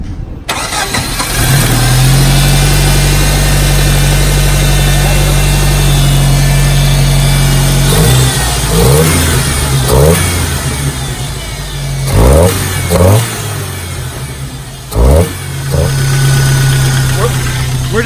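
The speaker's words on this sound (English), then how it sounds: "Fire it up, see if you get this thing stuck." A Jeep with a damaged, knocking motor cranks and fires up, then settles into a loud, rough idle close by, broken by several sharp revs, while people talk over the engine.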